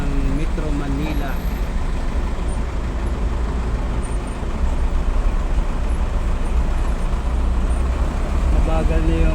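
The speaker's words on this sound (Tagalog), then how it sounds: "Ayan, traffic na kami ngayon. Papasok na kami ng Metro Manila." Steady roadway traffic on a slow road heading into Metro Manila along Daang Maharlika, a dense continuous rumble of cars, buses and trucks with a faint hiss of air brakes, heard from inside a vehicle.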